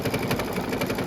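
An embroidery machine stitching an oven mitt makes a loud, steady, rapid rhythmic banging and mechanical chatter, close up with no voices.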